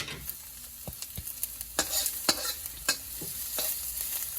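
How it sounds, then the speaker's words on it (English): Minced garlic and chilies stir-fried in a wok for Sichuan hand-torn cabbage, giving a steady sizzle broken by sharp clanks and scrapes of the spatula at an uneven rhythm, close and moderately loud with no talking. "we're going to stir fry that for about another 30 seconds until the flavors are starting to really nicely come out."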